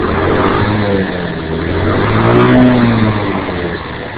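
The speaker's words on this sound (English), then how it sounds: "This is just a stock Rocketa mc-54-250b running hydrogen." A stock Rocketa MC-54-250B moped engine running on hydrogen with no exhaust fitted, a loud, close, steady drone that rises and falls slightly in pitch, with no voices.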